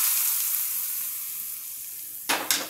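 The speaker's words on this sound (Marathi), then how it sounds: "ही मिरचीच्या ठेच्यावरच मी ही फोडणी ओतणार आहे" Hot tempering oil poured over a crushed green chilli paste for a Karnataka-style raw mango moong dal, giving a steady loud sizzle that fades gradually, then two sharp fresh bursts of crackling near the end.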